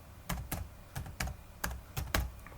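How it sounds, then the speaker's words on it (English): Typing on a computer keyboard while entering an Excel sheet name: about seven separate key taps in an uneven rhythm, close and fairly quiet, with no talking. "I can type the name of the sheet"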